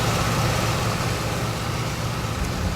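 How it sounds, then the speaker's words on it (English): Continuous heavy drone of a Vought F4U Corsair radial engine cruising in flight, loud and even from inside the cockpit, no talking. "engine's running perfect."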